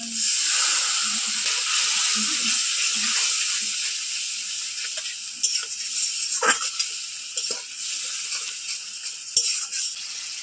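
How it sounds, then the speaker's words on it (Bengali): Water splashes onto a spice paste of ground coriander, cumin and salt frying in a pan, setting off a loud hiss that slowly settles into softer sizzling with small pops and crackles, near and with no talk. "মশলার উপর অল্প একটু জল দিচ্ছি।"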